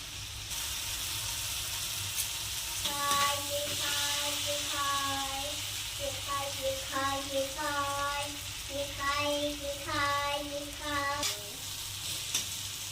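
Spiced masala with turmeric and slit green chillies fries in a pan for a pomfret fish curry, a steady hissing sizzle with occasional stirring scrapes while a voice sounds faintly in the background.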